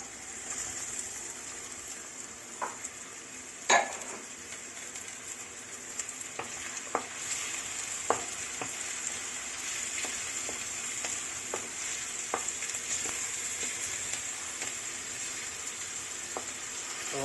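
Garlic and onion frying in a pan, a constant close hiss of sizzling oil with scattered clicks and taps of stirring, one louder knock early on, running steadily and alone without talk.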